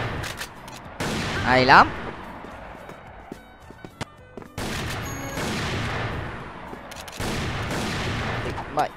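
Rifle gunfire from a Dragunov sniper rifle in the online shooter CrossFire Vietnam, several sharp bursts of shots at intervals amid game noise, with a player's voice briefly commenting.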